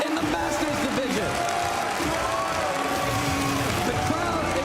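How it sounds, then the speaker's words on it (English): At a Pokémon video game world championship, a large crowd keeps up steady applause and cheering in an arena under a loud announcer's voice. "The crowd is on their feet."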